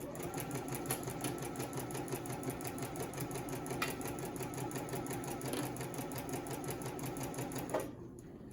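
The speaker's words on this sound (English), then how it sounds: "I can't sew when I talk because it's probably too loud" A sewing machine runs steadily while stitching a fabric mask with yellow thread, its fast mechanical chatter continuous and close for nearly eight seconds before it stops abruptly.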